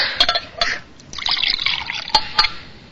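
Water is poured from a pitcher in a radio drama, giving short splashing trickles that stop and restart, close and fairly clear with no talk.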